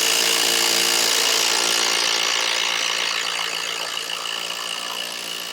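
Power driver sinking a long screw at an angle into a timber floor joist for a garden room build, a loud continuous whirring grind that gradually slows and softens over several seconds, with no talking.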